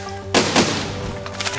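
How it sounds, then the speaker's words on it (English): Cannon fire in the building game Besiege: two sharp, loud blasts in quick succession, followed by a rumbling tail. "since this cannon was so powerful, it still kicks"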